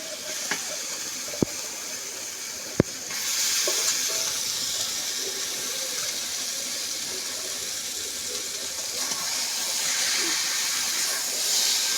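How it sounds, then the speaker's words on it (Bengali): Chicken pieces fry with spices in a hot pan. The sizzle and hiss run steadily and close throughout, with a couple of sharp clicks near the start and the sizzle swelling louder soon after. "সুন্দর করে মশলার সাথে মাংসটা কষে নেব"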